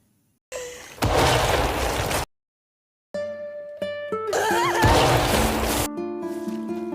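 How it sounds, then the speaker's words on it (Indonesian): Two sharp bursts in a film scene, the first a loud broadband blast lasting over a second, then after a short silence a second loud blast layered with ringing tones and a sustained musical drone. "tiba-tiba saja suara tembakan mengenai dirinya"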